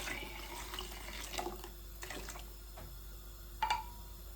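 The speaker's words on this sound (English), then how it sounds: "So now I am going to put 2 more pints of water." Water running and splashing into a pot, two pints added to peanuts for Jamaican cornmeal porridge, fairly quiet and close, with a brief clink near the end.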